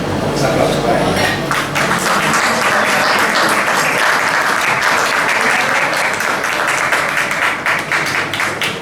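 An audience at a poetry and wine evening at an athenaeum breaks into steady, loud applause for a poet, a dense wash of clapping that lasts throughout, with some voices mixed in.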